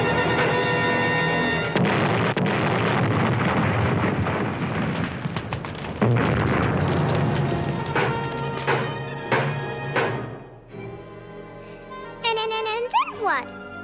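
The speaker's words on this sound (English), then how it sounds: "Pretty soon they were blowing up whole cities" A 1955 Hanna-Barbera animated drama plays cartoon bomb explosions, a long, loud, booming roar of blasts that rumbles and fades under a narrator's voice.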